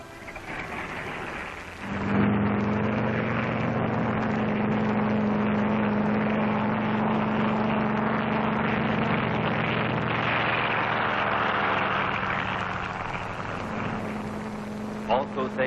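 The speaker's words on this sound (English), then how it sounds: "taking off from the carrier are control planes that will guide the radio-controlled drone boat" Propeller control planes taking off from an aircraft carrier during the 1946 Bikini atomic bomb test, a loud steady engine drone with a low hum that holds for most of the stretch under a narrator's voice.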